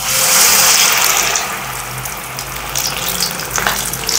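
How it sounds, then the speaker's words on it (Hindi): Maida-coated stuffed chillies for mirch pakoda fry in hot oil with a loud, dense crackling sizzle that eases slightly after the first second or so. "इसको मैदे में डिप करके और इसको फ्राई कर लेते हैं।"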